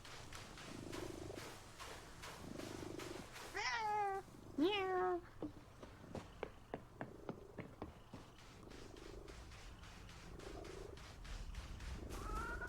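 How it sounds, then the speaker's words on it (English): A cat in the video game Reka meows twice in rising, wavering calls over a steady low purr, with a run of soft clicks and thumps; no talking. "let's bring the kitty cat back home"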